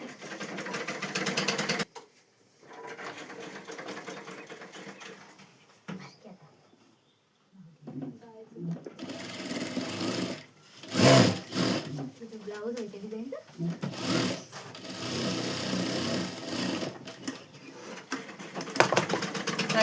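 A sewing machine stitches the shoulder seam of an umbrella dress in several close, rattling bursts, separated by pauses and handling noises, with someone talking between runs.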